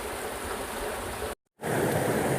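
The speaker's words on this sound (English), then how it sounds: "you can see here the water coming from the channel" Water gushes steadily through the channel of a small 2×25 kW micro hydel power plant after the gate is opened, a loud, dense roar up close, broken only by one brief dropout.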